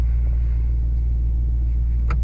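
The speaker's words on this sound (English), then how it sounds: "Start the engine." A 2017 Mercedes-AMG E63 S 4MATIC+ sits idling, its engine a steady, loud low-frequency rumble heard close from inside the car. A brief click sounds near the end.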